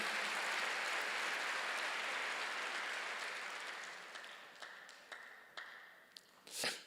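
Congregation applause at a church worship service fills the room with a dense, steady clapping wash that gradually thins out, ending in a few scattered individual claps.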